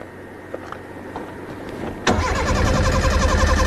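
A safari vehicle's engine is started. A few faint clicks come first, then a sudden loud catch as it fires, and it settles into a steady, fairly close rumble.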